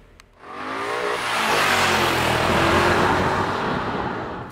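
BMW M5 being driven on the road, its engine note building from quiet into a steady, strong drone heard from inside the car, with no talk over it.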